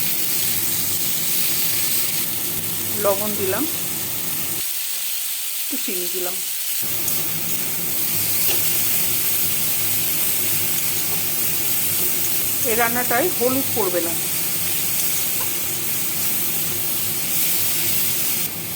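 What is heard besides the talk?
tomatoes frying with onions in a pan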